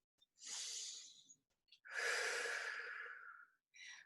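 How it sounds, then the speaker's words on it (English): A deep, relaxed breath during a fitness class: a long inhale, then a longer, fuller exhale through the mouth, close and alone, with a short breath at the end. "let's take a relaxed, deep breath"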